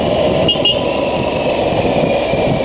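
A motorcycle engine runs loud and steady throughout, a continuous close drone with brief changes, ridden alongside a cycling race, the Grand Prix de l'USL.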